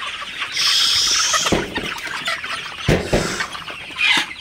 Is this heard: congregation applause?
no